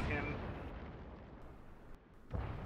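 Distant rumbling battleship artillery fire in World of Warships, a sustained booming roar that fades and then swells again near the end, with a voice commenting over it.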